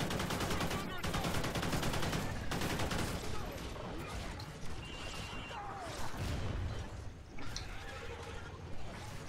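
Pistol and other gunfire in the co-op shooter Call of Duty Ghosts Extinction mode, rapid overlapping shots and bursts with crashes over busy game noise, at low volume.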